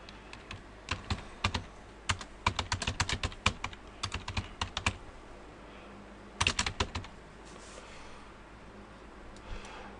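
Keys clatter on a computer keyboard in quick irregular bursts of sharp clicks, close and clear, with short pauses between runs of typing.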